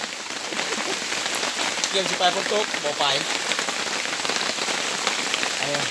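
Rain falling steadily at a rural home, a dense close patter on surfaces throughout, with people talking briefly underneath.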